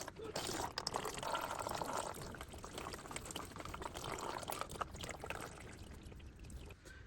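Used engine oil pours steadily from a vehicle's drain plug hole during a thread repair, a continuous liquid splashing and trickling sound that stays fairly loud and constant throughout, with no talk over it.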